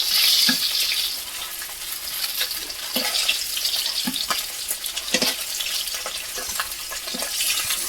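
Oil sizzles steadily as hilsa fish fries in a pan, with intermittent scraping and stirring clicks from a utensil.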